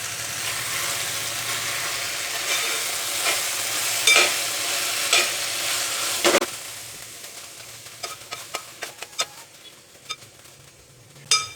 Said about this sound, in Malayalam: ഇനി നന്നായിട്ട് ഇളക്കി കൊടുക്കുക